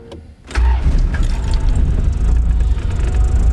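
A Honda Civic EF with a B18C4 engine, fitted with new spark plugs, cranks and catches about half a second in, then settles into a steady, close, rumbling idle.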